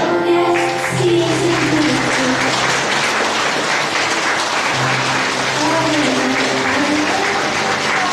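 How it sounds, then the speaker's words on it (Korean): Sustained applause and cheering from a wedding crowd as the bride makes her entrance, loud and continuous throughout with a few raised voices and music tones mixed in. "다시 한번 뜨거운 박수와 환호로 맞이해 주시면 감사하겠습니다"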